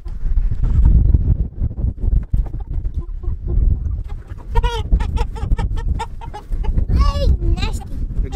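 Farm chickens cluck and squawk while being picked up and carried, a busy run of calls mixed with children and adults talking over them.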